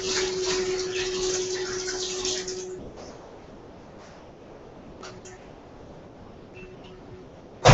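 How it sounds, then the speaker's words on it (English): A tap runs onto hands being washed, a steady close gush that stops after about three seconds, followed by quieter handling noises and a sharp knock at the end. "And I'm going to wash my hands."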